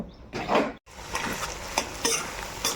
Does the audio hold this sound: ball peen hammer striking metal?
no